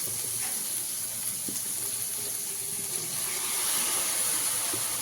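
Water is tipped into a pan of browning chicken pieces, giving a steady, fairly faint hiss and gush that runs through without voices.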